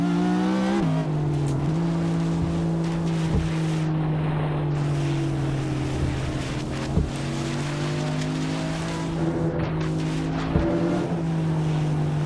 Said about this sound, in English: trying to listen out for the splashing, which you can hear